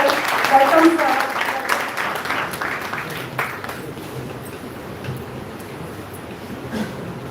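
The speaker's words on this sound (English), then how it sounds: "A big round of applause for our honorable guest" An audience at an economics association lecture claps for an honored guest speaker, a fairly brisk round of applause that fades into quieter room noise partway through.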